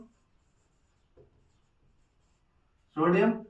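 A teacher writes a chemical formula on a classroom board, giving a soft short scrape near the start, another faint mark around a second in, then a louder, sustained stroke near the end.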